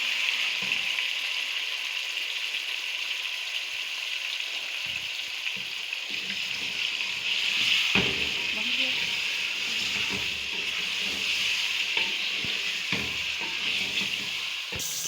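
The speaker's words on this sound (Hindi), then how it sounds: "तकरीबन 5 मिनट के लिए इसको मैं इस ऑयल के अंदर अच्छा करके मिक्स करूँगी।" Chicken pieces fry steadily in hot oil, a continuous sizzle and hiss that stays close and even, broken by occasional scraping stirs and clinks of a utensil; a voice talks briefly over it.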